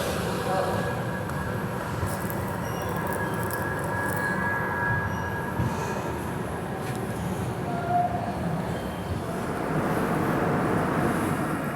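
A Garib Rath Express train pulls in at Azimganj Junction, platform 1. A continuous loud rumble of rolling wheels is overlaid with faint metallic squeals and clanks.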